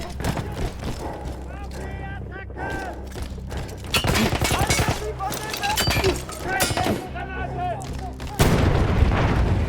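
An explosion blowing up a gun in Battlefield 1, heavy booms and crackling blasts layered under a voice speaking, with a big loud burst near the end.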